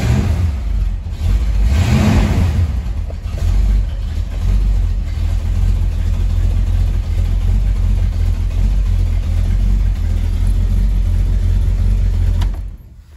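A 1966 Ford Mustang convertible drives down the road, its engine revving up then holding a steady, loud low rumble with wind and road noise, close and continuous until it cuts out.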